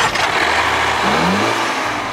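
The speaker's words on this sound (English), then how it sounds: "This crossover's only engine is a turbocharged 4-cylinder designed and built by Ford." A turbocharged Ford-built four-cylinder in a 2015 Land Rover Discovery Sport crossover accelerates, a steady broadband engine roar with a rising tone, heard alone and fairly loud.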